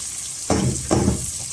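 Onion garlic paste with green chili hitting hot oil for Chinese fried rice, with two bursts of loud sizzling frying close by, no talk.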